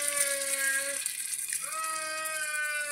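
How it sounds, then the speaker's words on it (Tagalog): Water pours from a tap or jug into a pan of menudo sauce, a steady close gush with a brief dip partway through, under a faint background tone. "Lagyan ko ng tubig."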